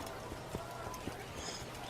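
Horse hooves clip-clopping at a steady walking pace through a village in the Assassin's Creed video game, soft and rhythmic beneath a dense layer of game ambience.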